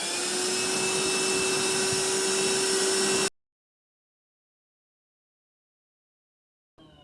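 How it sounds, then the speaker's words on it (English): A cordless handheld wet/dry vacuum sucking up a mess on a couch, running as a steady loud whine with a high tonal hum for about three seconds, then cutting off into silence before a brief rustle. "See how well it will suck up all this stuff."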